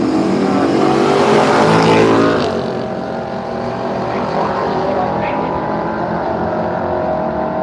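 At Willowbank Raceway, a big Ford Bronco and a Cortina drag race with loud, roaring engines that surge and then fade as the cars pull away, under a commentator's voice.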